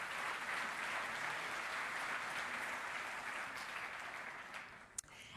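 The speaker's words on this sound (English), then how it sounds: "You can give them a round of applause." An audience applauds highly commended entries at the SuperValu TidyTowns Awards 2023 ceremony. A dense, sustained clapping from a large crowd continues evenly, then thins and fades near the end, with a sharp knock just before it stops.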